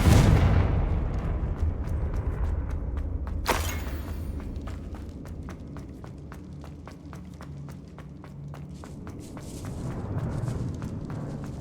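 Confringo fire spells blast in the video game Hogwarts Legacy: a loud burst at the start and a sharp crack midway, followed by a rhythmic patter of quick footsteps and softer impacts.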